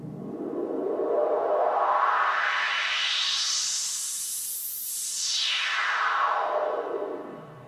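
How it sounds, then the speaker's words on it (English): A synthesizer noise oscillator washed in reverb and delay sweeps upward in a breathy whoosh, then glides back down, smooth and atmospheric with no voices. "literally every synth in the world has a noise oscillator"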